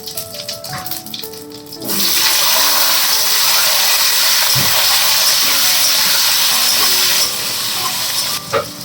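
Potatoes dropped into hot oil with cumin seeds in a home kitchen pan, a loud steady sizzling hiss bursting in after a couple of seconds and holding strong, close and continuous, with small clatters early on.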